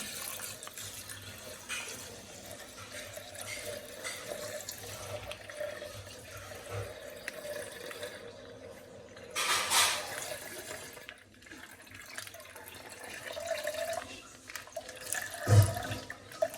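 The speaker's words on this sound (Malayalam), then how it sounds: "നമ്മൾ ആദ്യം പാലാണ് ഒഴിച്ചു കൊടുക്കുന്നത്" Milk is poured into a container for an Oreo milkshake, making a brief soft liquid splash and gurgle that stands out against a quiet, hissy room background.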